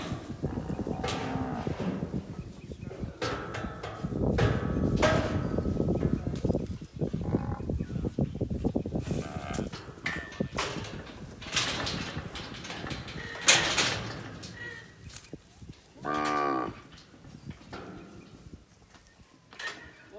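Cattle low and moo repeatedly while being mustered down a mountain block, several calls near and far over rustling movement and occasional outdoor clatter.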